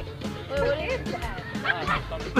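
A dog barks and yips in quick bursts close by on an outing with boating and grilling, with people chatting and laughing around it.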